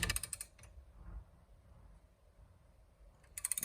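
A brake caliper piston on a 2013 Cadillac CTS is pressed back with short bursts of mechanical clicking and creaking at the start and again at the end, separated by near-quiet.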